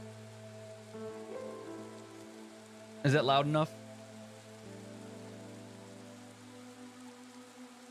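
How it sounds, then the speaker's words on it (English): Steady, soft rain patters constantly in the fantasy city-builder game Against the Storm, over low sustained musical tones, while a voice briefly speaks up close. "The rain is pretty much constant."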